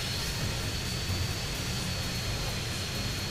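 A jet aircraft's engine roars steadily in GTA San Andreas, a dense, loud broadband rush with no breaks and no voices.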